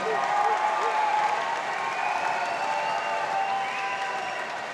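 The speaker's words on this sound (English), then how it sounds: "Give a round of applause." Audience applause fills a gym fight venue after a kickboxing title bout, a steady dense wash of clapping and crowd noise that stays loud and even throughout, with a faint voice under it.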